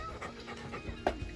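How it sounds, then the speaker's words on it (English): Puppies pant rapidly and whimper nearby during New Year's Eve fireworks, with steady rhythmic breathing and one sharper yelp-like sound near the end, set against a low background rumble. "With the puppies freaking out because"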